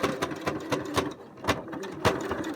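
Sewing machine back stitching narrow round elastic for a face mask, a close rhythmic mechanical clatter of quick needle strokes with brief pauses, no voices.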